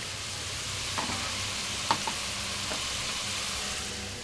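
Green chilies frying in a pan and stirred now and then, a steady soft sizzle with a few faint scrapes of the spatula, no voices.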